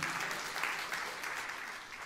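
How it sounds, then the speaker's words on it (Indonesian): A church congregation applauds during a sermon, a brief, moderately quiet burst of even clapping that stays steady for its short length. "Tepuk tangan yang meriah untuk kemuliaan"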